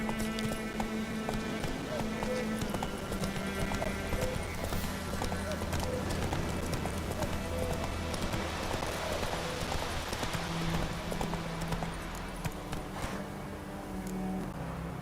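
A galloping horse in The Witcher 3 video game: steady rhythmic hoofbeats under dense game music and ambience, with a voice calling out briefly.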